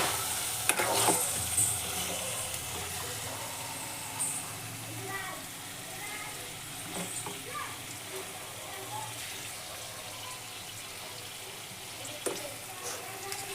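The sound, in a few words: stirring amaranth egg curry in frying pan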